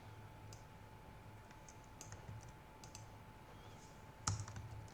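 Code gets typed on a computer keyboard in quiet, faint, sparse key clicks spread across the stretch, with one sharper, louder clack near the end over a steady low hum.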